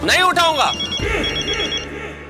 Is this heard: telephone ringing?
yes